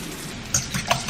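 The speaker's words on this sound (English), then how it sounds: "Making some bacon" Bacon frying in a pan, a close steady sizzle with brief scraping stir sounds near the end, short and without talk.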